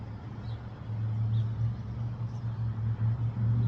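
Outdoor car traffic near a rushing river, a steady low rumble of passing vehicles at moderate distance with water noise blended beneath, no voices.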